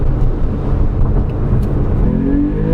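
Exhaust of a Porsche 911 997.2 Carrera S, heard from inside the cabin with the sunroof popped open, a steady loud engine drone with a rising rev note near the end.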